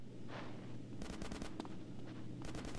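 Gunfire in the video game GTA San Andreas: rapid bursts of automatic shots in short clusters over a steady low rumble of game ambience.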